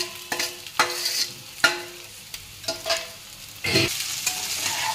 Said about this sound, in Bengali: রান্না করা চাউমিনটা ঢেলে দিলাম।